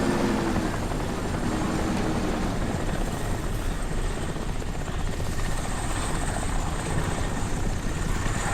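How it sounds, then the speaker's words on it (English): A helicopter passes overhead in the video game Crysis, its rotor chop forming a loud, steady rumbling throb that fills the whole stretch without any talk. "I hear a chopper."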